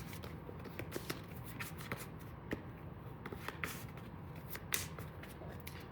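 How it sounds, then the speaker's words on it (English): Playing cards for a board game being shuffled close up, a quiet riffling texture punctuated by a series of sharp, irregular snaps and taps as the cards hit together. "I'm shuffling them, and they're going to go face down like this."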